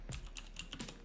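A brief flurry of touch typing on a computer keyboard: a handful of crisp, rapid key clicks in quick succession, close and quiet, with no voices.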